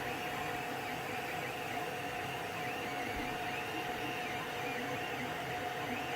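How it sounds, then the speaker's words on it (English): A new 3D printer prints with PLA filament, giving a steady, unbroken mechanical hum and whir with a faint tonal drone, close and constant throughout with no pauses and no talking. "it's printing using this PLA that they sent with the machine"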